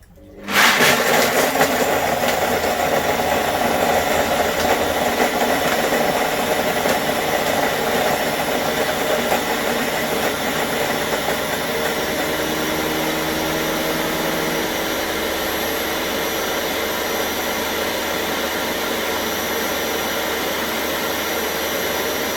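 A loud, steady mechanical whir starts abruptly and runs continuously, a blender-like roar with a harsh grinding edge that shifts slightly partway through, as an Ambiano thermo cooker's blades crush ice.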